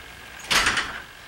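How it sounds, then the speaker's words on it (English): A single door pushed shut indoors, a short, fairly loud thud with a brief sliding rumble that fades within half a second, with no talk over it. "Can you shut that door, please, Don Don or Batman?"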